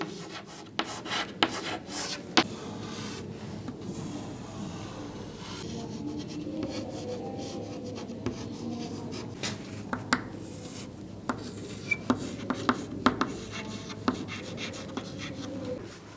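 A teacher draws the structure of a flower's pistil on a classroom board, with chalk scraping and tapping in bursts of short strokes up close, separated by quieter pauses.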